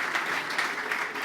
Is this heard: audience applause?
yes